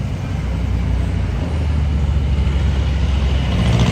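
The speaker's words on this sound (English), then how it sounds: "Yes, it's noisy, it's a city. Look, all jeepney, all car." Dense city traffic of jeepneys and cars on a Philippine street makes a steady, close low engine rumble that runs without pause throughout.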